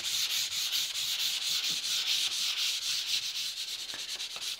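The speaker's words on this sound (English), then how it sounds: "just lightly denib the surface by going over the surface with the sandpaper, P180 or P240" Sandpaper, P180 or P240 grit, lightly rubs over coated wooden joinery along the grain in quick, even back-and-forth strokes, a close, steady scratchy hiss heard alone.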